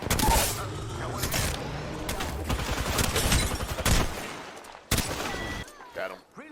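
Rapid bursts of gunfire from the battle royale video game Apex Legends, loud and dense with several volleys and a sharp final shot, mixed with game effects and voice.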